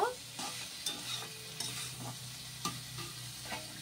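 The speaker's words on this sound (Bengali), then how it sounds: "এবার ভালোভাবে আরেকটু নাড়াচাড়া করে নিব" Vegetable soup ingredients being stirred as they fry in a pan, a spoon scraping and clanking in irregular strokes over a soft sizzle, close and fairly quiet.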